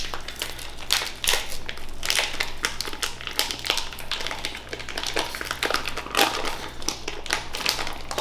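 Plastic food packages are cut open up close, giving continuous crinkling, crackling rustles with scattered sharp snips and taps against a low steady hum.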